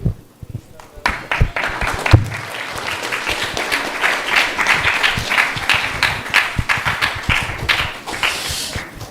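An audience applauds after a devotional class on Ekadashi at a Sunday feast program. The clapping is dense and sustained, with sharp claps and faint crowd voices mixed in.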